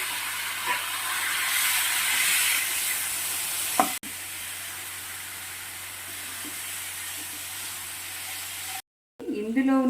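Marinated chicken frying in a hot pan, a broad steady hiss with a brief clatter near the start, then a quieter sizzle, ending with a short bit of speech.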